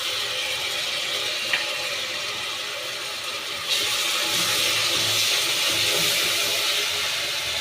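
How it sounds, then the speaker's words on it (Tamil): Ginger garlic paste sizzles among roasted onions in a pan, a loud, continuous hiss that swells sharply partway through as it is stirred, with no voices. "இஞ்சி பூண்டு பேஸ்ட்டு போட்டு 2 மிக்ஸ் பண்ணிவிட்டு"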